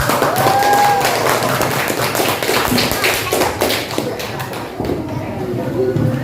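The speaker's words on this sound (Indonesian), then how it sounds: "Kasih tepuk tangan untuk kelompok." Schoolchildren in a classroom clap for a group of classmates, close, uneven, tapping claps with chatter and shuffling mixed in.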